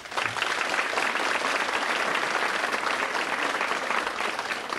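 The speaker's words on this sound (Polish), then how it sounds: "Duże brawa, kochani." A steady, dense wave of audience applause fills the hall at an anniversary celebration show for a children's scouting song group, sustained clapping with no break.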